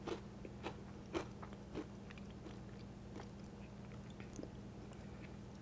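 A pretzel dipped in wasabi and green onion dip bitten and chewed close up, a few sharp crunches followed by quieter chewing over a faint low hum.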